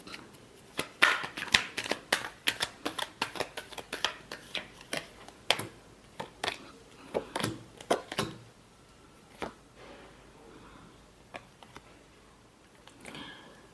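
Tarot cards shuffled by hand in a quiet room, a burst of quick riffling flicks that slows into a few scattered, separate slaps and taps toward the end, close and fairly soft.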